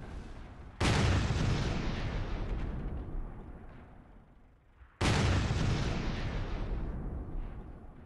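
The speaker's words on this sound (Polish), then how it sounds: "Strzał do leoparda." Two heavy tank cannon shots in a tank battle video game, one fired at a Leopard tank, from a T57 Heavy: each a sudden loud boom with a long rumbling decay, about four seconds apart.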